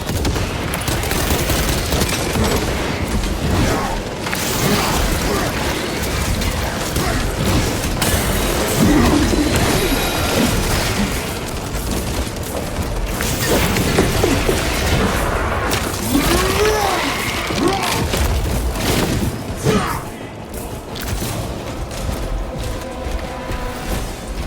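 A crack grenade going off amid a dense firefight in Warhammer 40K: Space Marine 2, with booming blasts and sustained gunfire filling the scene loudly and continuously.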